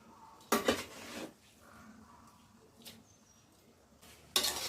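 A spoon stirs chicken masala into biryani rice in a metal pot, with two loud bursts of scraping and clanking at the start and end and softer metallic knocks between.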